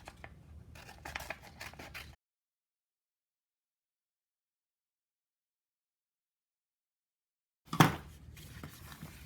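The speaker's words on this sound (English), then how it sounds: "You're going to cut the papers 2 at one time by keeping them" Scissors cut through two folded sheets of paper at once: a burst of crisp snipping and rustling, a long silence, then another loud cut followed by softer paper noise.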